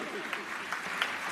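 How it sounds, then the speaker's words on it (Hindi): Audience applause at a Jain community religious gathering, a steady wash of clapping from a crowd heard alone across the short moment. "बजाइए ताली अच्छे से।"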